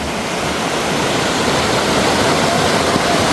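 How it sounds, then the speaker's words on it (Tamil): Floodwater rushes fast across a blocked road in flooded Vattappalai, Mullaitivu, making a loud, unbroken roar of churning water, close and constant throughout. "தண்ணி எப்படி போகுதாப்பா"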